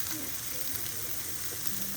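Pork sizzling on a Thai mookata grill, a steady, dense crackle and hiss of frying meat heard up close and continuously throughout.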